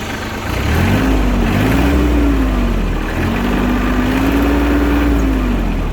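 A small Japanese mini tractor engine with cab and rotary tiller runs steadily up close with a low droning hum, its pitch rising and falling slightly in two gentle swells.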